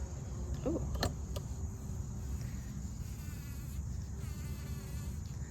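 A soft, continuous bee buzz hums close by on a horse nettle flower in a late-summer garden, against a quiet outdoor background, with a faint click early on.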